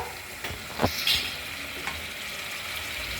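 Onions frying in a pan for a home-style onion pakodi curry, with a continuous close sizzle and a few louder stirring scrapes and clicks near the start, then a steady hiss.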